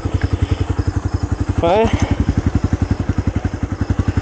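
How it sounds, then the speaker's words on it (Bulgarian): A Honda Grom motorcycle engine idles nearby with a loud, rapid, even thumping pulse throughout, while someone speaks briefly over it. "Това ми е новия мотор, хора. Honda"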